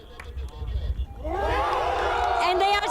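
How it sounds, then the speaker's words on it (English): Crowd at a Stratos V rocket launch during EuRoC: after a second of low murmuring, a burst of loud overlapping whoops and cheers rises and carries on to the end. "And they are cheering."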